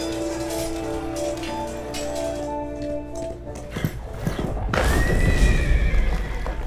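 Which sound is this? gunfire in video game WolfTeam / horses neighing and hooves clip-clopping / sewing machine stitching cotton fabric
horses neighing and hooves clip-clopping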